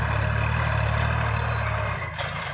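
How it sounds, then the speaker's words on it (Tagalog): A tractor engine powers a modified raft, giving a steady, loud, low mechanical drone that shifts slightly in pitch near the end, with no voices over it. "Ayan, modified na balsa gamit ang traktora."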